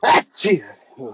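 A single sharp sneeze bursts out at close range, followed immediately by a person speaking.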